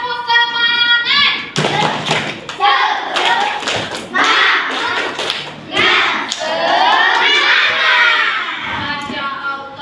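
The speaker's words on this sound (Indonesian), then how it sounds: "kita tepuk semangat dulu ya." Children and a teacher in an Indonesian classroom doing a rhythmic group clapping chant, with chanted voices over bursts of clapping and sharp hand thumps in a patterned beat, close and loud.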